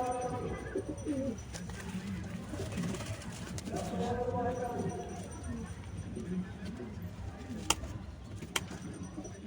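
Pigeons in a home loft, with soft repeated cooing that rises and falls alongside someone talking nearby and a few light knocks.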